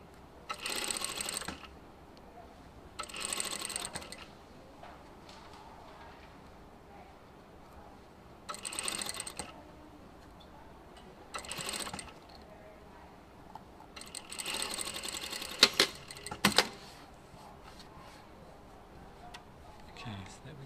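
Sewing machine top stitching pre-made bias binding in several short bursts of rapid mechanical stitching separated by pauses, close and fairly soft, with a person talking in between.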